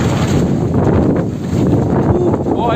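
Strong icy wind in Montréal roars and buffets the microphone loudly and continuously, a dense rushing gust with no pauses.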